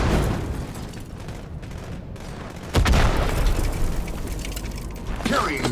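Rocket explosions from a Halo 2 Anniversary capture-the-flag match on the Ascension map: a heavy boom lands near the middle amid ongoing gunfire and mechanical game noise, with voices talking over the action.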